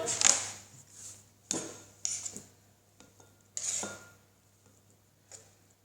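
Pieces of cut tomato drop into a bowl, giving several separate knocks and soft thuds, each one short and close, with quiet gaps between them.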